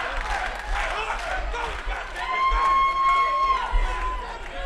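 A hometown fight-night crowd at a combat sports event roars and cheers in support, a dense continuous wash of voices with whistles rising midway, heard close and loud.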